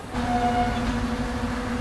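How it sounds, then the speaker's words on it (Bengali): The 12021 Barbil Jan Shatabdi Express, just departed Howrah station, gives a steady low rumble with a faint tonal hum, heard from on board and continuous over the short stretch. "6:29, 9 মিনিট লেটে ট্রেন ছেড়েছে হাওড়া স্টেশন থেকে"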